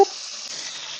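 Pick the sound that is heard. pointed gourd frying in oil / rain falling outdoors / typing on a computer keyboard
pointed gourd frying in oil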